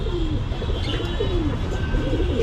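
Pigeons coo and call in soft, repeated low phrases through a steady background hum, with a faint high tone above, the birds close and continuous throughout.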